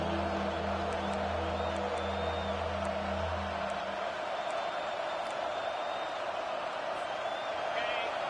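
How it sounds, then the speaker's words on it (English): In a college football video game, a stadium crowd roars as a steady wash of noise with faint whistles and whoops, while a low commentary voice talks at the start. "Third down, and this crowd is tearing the lid off this place."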